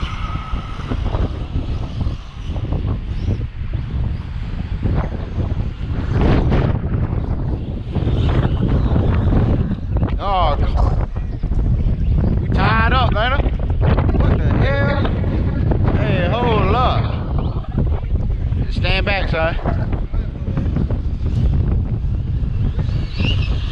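Strong wind buffets the microphone outdoors at an RC car bash with an Arrma Mojave 6S and Radix 4, a steady loud roar throughout, with a whining motor passing and voices talking over it.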